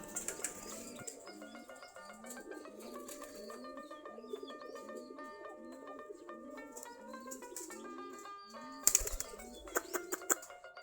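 Many pet pigeons, giribaz and golla breeds kept in a loft, coo steadily in overlapping low rolling calls throughout, with a sudden burst of wing flapping and fluttering near the end; no one speaks.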